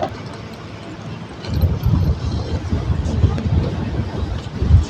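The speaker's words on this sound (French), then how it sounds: "Toujours ce vent de con en présent." Gusty wind buffets the microphone on an Australian street during food delivery rounds, a low rumbling roar that swells after the first second and stays heavy.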